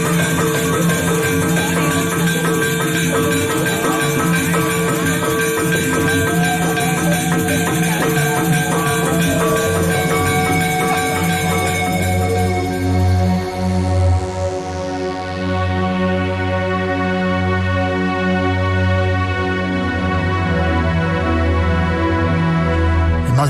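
Music for a Barong dance performance in Bali plays continuously: a dense, steady ensemble of ringing tones that sustains throughout, with the brightest upper shimmer thinning out partway through.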